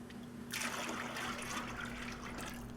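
Metallic green Plasti Dip poured from a gallon can: a thick, hissing liquid pour starts abruptly after a quiet moment and carries on steadily over a low background hum.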